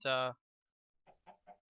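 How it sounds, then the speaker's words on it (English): A single loud harmonic cackle followed by three short soft clucks spaced evenly after a pause, from chickens in a modded video game. "chickens."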